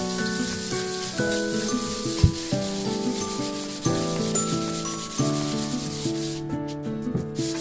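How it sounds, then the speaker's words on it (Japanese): A red 3M abrasive sponge scrubs and scuffs a unit bathroom floor sheet, giving a steady, close rasping rub with strokes changing rhythm, while soft music plays underneath. "次に表面の目荒らしをします。 使っているのは 3M のスポンジ研磨剤赤です。"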